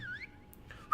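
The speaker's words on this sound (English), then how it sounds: "Whistling a shrill warning signal, the Oathbreaker falls back deeper into the keep." A shrill warning whistle sounds in the fantasy video game Tyranny, two short rising-and-falling whistle bursts with a pause between them, cut off by a sudden loud noise at the end.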